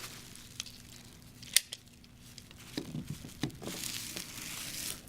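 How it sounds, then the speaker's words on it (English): Plastic bags cut with a rotary cutter on a cutting mat, several layered at once for a mat project, giving a sharp snip followed by soft crinkling and rustling of plastic, close and fairly quiet with no talking. "Cut off the ends."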